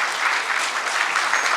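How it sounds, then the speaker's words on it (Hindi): A theatre audience in Bhopal applauds after a stage play, with continuous, close clapping from many hands and no talking. "बहुत बहुत धन्यवाद आप सभी की"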